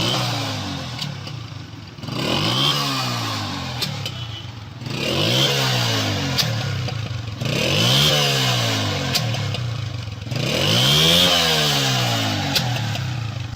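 Honda CG 125 motorcycle with a misfire, its engine revved repeatedly in four rising and falling surges, running rough and uneven with a stuttering, clattering tone between the revs, close and loud.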